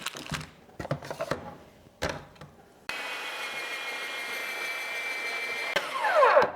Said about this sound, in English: the recipe calls for pepper jack, and I need to get it shredded. I have this old-fashioned Presto salad shooter.